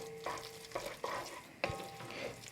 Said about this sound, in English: we'll get it stirred in, let it cook for 3 or 4 minutes